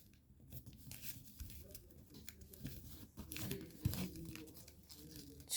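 Paper is folded by hand to make a paper fighter jet, with soft crinkles, creases and rustles in irregular bursts, close and quiet, with no voices.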